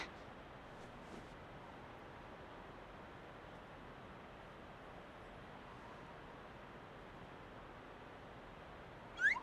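A single brief cat meow from Kingdom Hearts Birth by Sleep sounds at the very end, after a long stretch of quiet low background noise.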